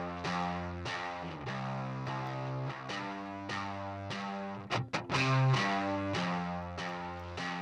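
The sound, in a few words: baritone guitar through an amp simulator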